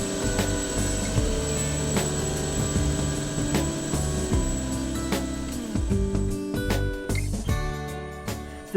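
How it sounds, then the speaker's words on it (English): A helicopter flies to the roadless town of Qaanaaq in northwest Greenland, its loud steady engine and rotor drone heard from inside the cabin, continuous throughout with a few clunks near the end. "a helicopter was the way to go."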